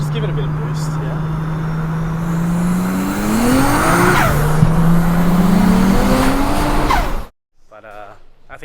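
Toyota Chaser engine pulling hard under turbo boost, a loud, close rising drone climbing steadily in pitch for about seven seconds before cutting off abruptly, followed by quieter cabin sounds.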